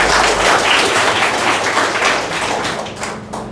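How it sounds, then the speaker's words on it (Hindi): An audience at a network-marketing business plan presentation breaks into a burst of clapping, dense at first and then thinning into scattered claps toward the end. "तो ताली तो होना चाहिए ना।"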